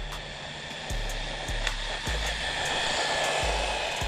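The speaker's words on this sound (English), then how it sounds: "It's going pretty good for a 390 brush motor." A Su Chi Yu 16102 Conquer 1:16 RC truck with a 390 brushed motor runs at full throttle, giving a high steady electric whine with sharp pulses as it passes near.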